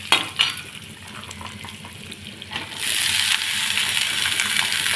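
Masoor dal fries in a pan with a close, steady sizzle, spatula scrapes and clinks over it, and the hiss swells louder partway through.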